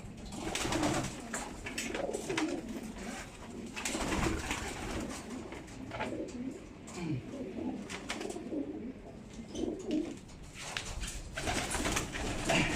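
Pigeons cooing in soft, repeated calls close by, mixed with rustling and faint background noise.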